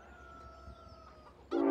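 Chickens cluck in the video game Farming Simulator 17 with a thin, steady tonal hum in the background, then a sudden louder burst of clucking near the end.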